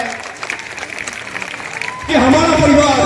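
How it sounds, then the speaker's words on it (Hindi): Applause at a school foundation day (12th anniversary of Lead India Academy), mixing with a speaker's voice at first, then the crowd's clapping swells loud and dense near the end. "हम चाहेंगे कि इस बात के लिए सारे लोग एक बार जोरदार तालियां बजाएं"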